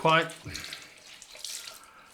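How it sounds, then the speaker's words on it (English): Cold water runs from a tap into a sink for splashing the face after a straight razor shave, a short, close, splashy gush that starts loud and then thins out, with a voice briefly present. "I'll splash some cold water on first"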